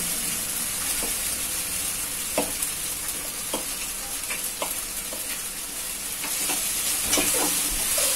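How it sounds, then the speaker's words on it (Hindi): Boiled vermicelli tossed in a hot pan on a low gas flame, with a steady sizzle and hiss under periodic clinks and scrapes of a spoon stirring, close and even. "अब हम इसमें डालेंगे बॉयल की हुई सेवइयां।"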